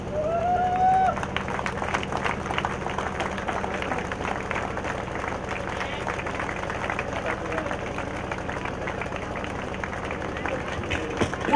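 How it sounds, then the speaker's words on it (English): Audience applause at a felicitation ceremony: a dense, steady wash of clapping from a crowd, continuous and fairly loud throughout with no pauses. "Guys, give a big round of applause."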